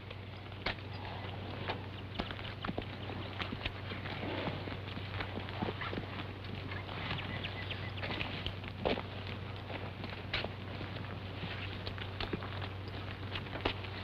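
Faint, steady hoofbeats of tired horses pulling a heavy load clop along throughout, with a constant low hum underneath and no voices.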